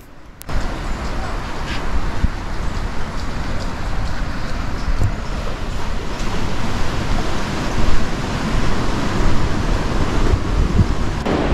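Steady, broadband wash of ocean surf on Tajpur beach in West Bengal, a continuous roar that swells slightly in places with no speech over it.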